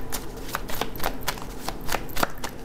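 Oracle cards are shuffled and drawn by hand, a series of quick riffling, slapping bursts at an uneven rhythm, close and clear, with no talking.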